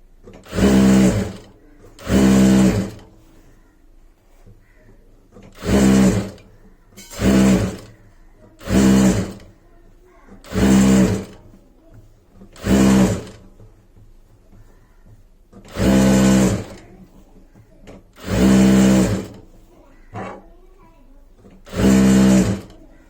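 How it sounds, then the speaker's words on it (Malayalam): A sewing machine stitches folded churidar fabric in about a dozen short, loud whirring runs of a second or so each, with quiet pauses between them. "അപ്പൊ വീണ്ടും ഒന്നുകൂടെ ഞാൻ മടക്കി ഇങ്ങനെ തയ്ക്കുവാണേ."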